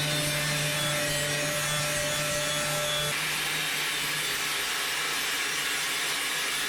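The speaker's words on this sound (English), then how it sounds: "Next, we're gonna just kind of grind on it and tune it to fit." Grinder working a replacement steel floor panel on a rusted-out 1959 International B100, a loud continuous abrasive roar that shifts in tone partway through, close and alone.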